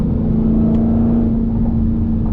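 Supercharged Dodge Hellcat accelerating, heard from inside the car as a loud, dense engine roar with a sustained steady drone, no talking.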